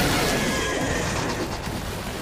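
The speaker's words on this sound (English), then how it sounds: "Kill this infected horse." An infected horse in the video game Stellar Blade lets out a loud, harsh neigh that fills the whole moment, close and sustained with a rough, noisy texture.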